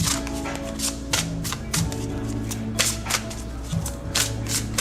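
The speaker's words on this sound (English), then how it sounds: "I love when I keep shuffling and then nothing comes out" A tarot card deck is shuffled in quick riffling bursts, a series of close, crisp card flutters and taps at an irregular rhythm, fairly quiet, with no one talking.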